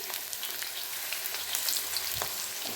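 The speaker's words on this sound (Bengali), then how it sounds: "আলুগুলো ভেজে নিই আগে।" Potato pieces frying in hot oil in a pan, giving a steady, crackly sizzle with scattered pops and occasional stirring scrapes, heard close and without talking.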